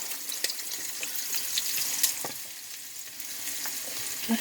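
A small yellow onion sizzles in a pot over medium-high heat, a steady crackling fry with occasional faint stirring clicks and no voices.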